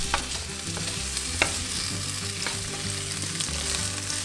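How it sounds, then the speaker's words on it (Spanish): Onion and garlic cloves fry in hot oil in a pan, giving a steady close sizzle with a few soft pops and scrapes throughout, with no one talking. "En una sartén con aceite caliente comenzamos por freír la cebolla y los dientes de ajo."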